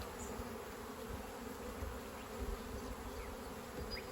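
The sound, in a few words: honey bees buzzing at an open hive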